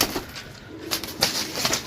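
Pink, jamun-coloured pigeons in a bird dealer's flock give soft, brief coos and short bursts of wing flapping, close and moderately loud, with no talking.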